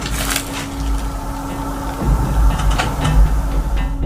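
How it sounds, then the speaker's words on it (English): A door closes by itself during a paranormal investigation, a creaking wooden thud and rattle that comes after about two seconds of low rumbling room noise. "What you're hearing is a door closing by itself."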